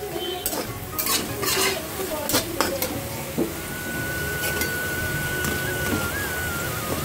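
Pointed gourd and potato slices frying in a pan, with a steady sizzle throughout and several sharp scraping and clinking sounds of a utensil stirring against the pan in the first few seconds.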